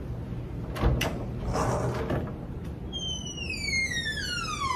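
A door opens with a couple of quick, close clunks of the handle and latch, followed by a soft rustling swing and then a string of bright, falling tones.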